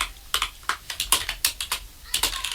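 Code being typed on a computer keyboard, a close, brisk patter of individual key clicks in short irregular bursts, with no talk.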